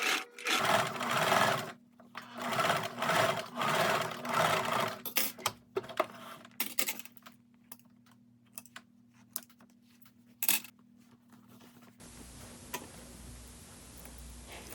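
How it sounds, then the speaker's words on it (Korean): A sewing machine stitches the crown seam of a handmade winter hat, running in steady bursts that stop and restart, with intermittent clicks and handling noises between runs and a quiet hiss near the end. "안감과 겉감 모두 같은 방법으로 바느질을 합니다"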